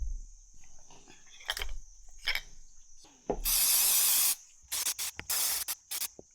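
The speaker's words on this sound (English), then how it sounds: "So let's clean the whole one using spray" Aerosol cleaning spray hisses in several bursts over a motorcycle starter motor on a workbench: short puffs at first, then one long loud blast, then a run of quick close sprays.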